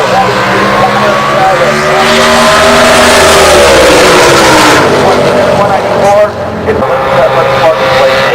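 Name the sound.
drag racing street car doing a short burnout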